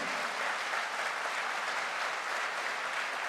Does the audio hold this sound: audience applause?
yes